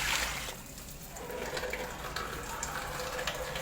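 Water poured into a bowl of flour while mixing pandesal dough, a continuous splashing, trickling flow heard up close and alone.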